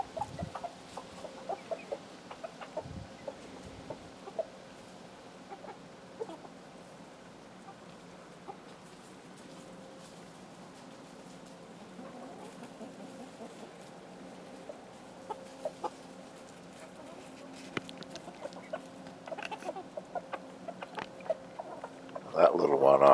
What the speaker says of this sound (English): Those are all my barnyard bantams.